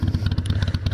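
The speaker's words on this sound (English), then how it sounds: "You can see that engine shaking in there." A motorcycle with Vance and Hines slip-on exhausts idles up close, a loud, steady, rapid low-pitched pulsing from the engine with no voices.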